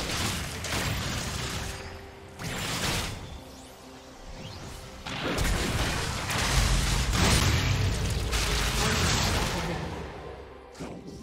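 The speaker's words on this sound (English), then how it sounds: "Blue team's turret has been destroyed." League of Legends in-game combat sounds, with crashing impacts, whooshes and booming hits, build into a dense, loud barrage as a turret is destroyed during a top-lane Urgot versus Wukong match.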